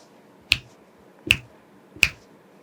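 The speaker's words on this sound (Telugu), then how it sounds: "చిటికేసి చెప్తున్నా" Three sharp, crisp finger snaps spaced evenly about three quarters of a second apart, close and loud against near silence.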